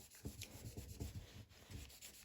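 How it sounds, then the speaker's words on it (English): Paper towel with a little oil rubbed along the shaft of a Patton 20-inch high-velocity fan during restoration, faint close-up rhythmic wiping strokes, about five quick passes. "put a little bit on a piece of paper towel, and we're going to wipe the shaft"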